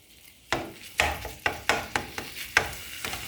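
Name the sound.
ground beef browning in a pan with fideo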